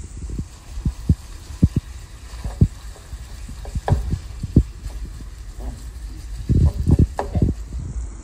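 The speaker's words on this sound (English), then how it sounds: "now that I got my meats in the pan, I'm going to mix them up and make sure they're fully cooked" Ground meat frying in a dry nonstick pan while being stirred, with soft sizzle beneath intermittent scraping and tapping of the utensil against the pan, close and moderately loud.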